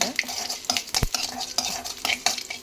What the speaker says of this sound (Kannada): ಹಸಿಮೆಣಸಿನ್ಕಾಯಿ ಕೊತ್ತಂಬರಿ ಸೊಪ್ಪು ಹಾಕಿ ಫ್ರೈ ಮಾಡಿ